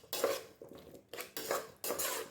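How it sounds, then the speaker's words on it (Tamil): Vegetable biryani ingredients being stirred together with yogurt in a metal pot, a ladle scraping and clinking against the sides in several short bursts with brief pauses between them. "தயிர் சேர்த்த பிறகு எல்லாத்தையும் நல்லா மிக்ஸ் பண்ணி விட்டுக்கலாங்க"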